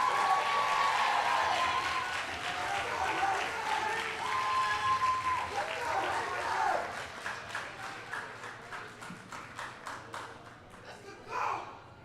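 A high school poetry slam crowd bursts into applause with some cheering, loud at first and then thinning into scattered, separate claps that fade out, ending with a brief voice.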